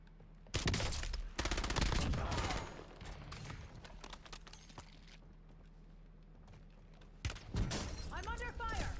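Rapid gunfire bursts crackle through a Warzone match, loud at the start and again near the end with a quieter stretch of game noise between, while voices talk over the action.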